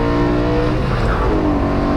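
A BMW E92 M3 engine revs hard on a race track, a loud, steady in-car drone with dense harmonics holding through the whole stretch and no voices over it.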